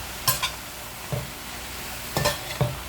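Bottle gourd greens stir-fried in a pan, a low sizzle broken by four or five distinct scraping strokes of a spatula, close and moderately quiet, no speech.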